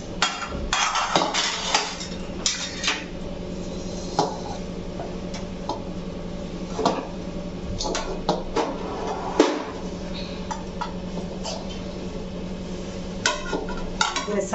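A spoon stirs a date and coconut mixture in a hot kadhai, giving repeated sharp clinks and scrapes of metal against metal in an irregular rhythm, close and fairly loud throughout.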